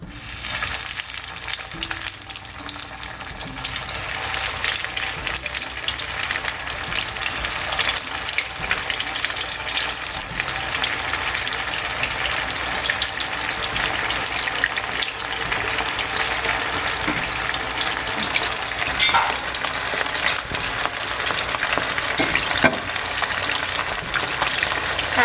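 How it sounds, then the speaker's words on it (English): Cheesy potato corn cutlets fry in hot canola oil over medium heat, giving a loud, steady, close sizzle that holds unbroken throughout, with no voices. "now we'll be putting these in oil for frying on medium heat"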